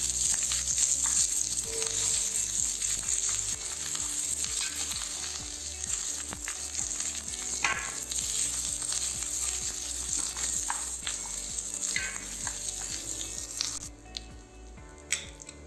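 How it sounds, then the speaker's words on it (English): Onions sautéing in oil in a heavy-bottomed pan for Thai Massaman curry, a loud, steady sizzle and crackle close up, with occasional scraping stir sounds and no talking. "add some oil, add onions"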